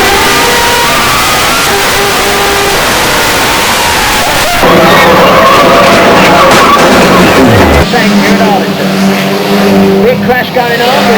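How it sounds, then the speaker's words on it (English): Stock cars in a multi-car banger racing pile-up on a track, roaring engines with skidding tires and abrupt crunching shifts, loud and close, with a commentator talking throughout. "There's a big wreck going on in front of us down here."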